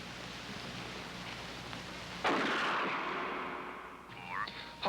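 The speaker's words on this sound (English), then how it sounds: "Shoot Bobby, Raymond. Through the forehead." A single sharp gunshot rings out, close and loud, trailing into a short fading tail over a dim background hum.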